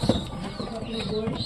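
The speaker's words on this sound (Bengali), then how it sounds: "সব কবুতর ধীরে ধীরে নামে।" Wing flaps and gentle cooing come from pigeons landing slowly to eat mustard seed, with a brief flutter at the start and steady soft bird sounds after, nearby and quiet, while a person talks faintly in the background.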